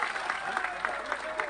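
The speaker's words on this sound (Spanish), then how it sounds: "Fuerte el aplauso." Brief burst of audience applause at a provincial salami festival, a crowd clapping steadily with voices mixed in under a tonal hum.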